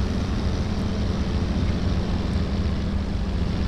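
A light propeller aircraft engine from Microsoft Flight Simulator X drones steadily and loudly, a constant broadband hum with no voices over it.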